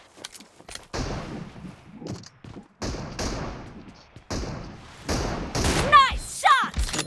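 Scattered gunshots from a team-based shooter video game, several sharp bursts spread across the stretch with gaps between, mixed with talking voices and some chirping effects near the end.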